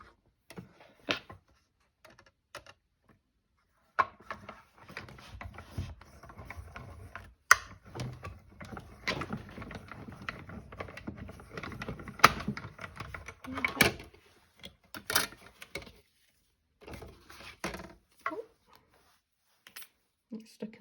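Die-cutting machine running a papercraft card through in one pass, giving a continuous grinding, ratcheting mechanical rumble with scattered clicks and knocks, plus brief handling noises before and after.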